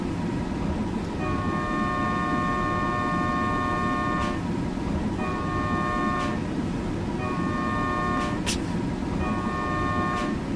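An alarm horn on a train in the SimRail railway simulator sounds in repeated tonal blasts over a constant loud rumble of the running train.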